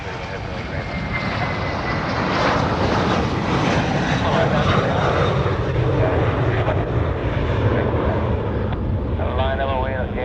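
An aircraft lands on runway 4 right at Honolulu airport, a steady broad engine roar loud and sustained throughout, with talk heard over it.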